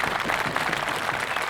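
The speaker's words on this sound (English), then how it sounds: "how about a nice round of applause" Steady applause from a crowd at a high school football game, Manchester Central at Nashua North, with dense clapping that carries evenly and fairly loud across the whole moment.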